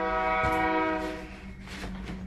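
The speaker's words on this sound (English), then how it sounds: "No, we'll always hear the train." A train passing close to a downtown art studio, its horn sounding as a loud, sustained harmonic blare over low rumbling that fades slightly toward the end.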